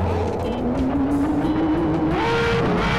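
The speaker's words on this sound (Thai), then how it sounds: "ผมได้ทำการลงม็อดเสียงมาด้วยนะเป็นม็อดเสียงของ Ferrari ท่อลั่นเลยนะเดี๋ยวเราลองเบิ้ลให้ฟังดูนะ" Ferrari FXX-K engine sound mod in GTA San Andreas, heard as a steady, loud engine drone whose pitch climbs gradually as the car revs up, with a higher whine emerging toward the end and no talking.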